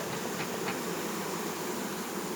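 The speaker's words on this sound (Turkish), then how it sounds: "biraz duman vereyim ben buna. Arı kaçsın üzerinden. Arı uzaklaşsın." Bees buzz around a traditional log beehive as smoke is puffed onto it, giving a steady, dense insect drone that sits close and fairly faint, with no voices.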